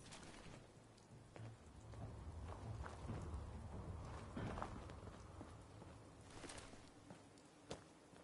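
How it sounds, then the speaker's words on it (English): Rain falls steadily in the game Fallout 4, a soft, continuous patter on surfaces at low level, with faint footsteps and occasional low rumbles underneath. "This rain is gonna ruin my notes."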